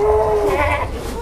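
Boer goats on a farm in Boyolali bleat loudly and close by, one long wavering cry over a steady background hum, with no talk.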